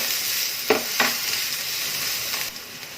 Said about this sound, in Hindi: अब इसमें ये 2 बारीक कटे हुए प्याज डालेंगे।